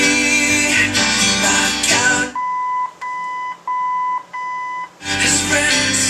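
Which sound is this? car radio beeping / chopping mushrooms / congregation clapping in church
car radio beeping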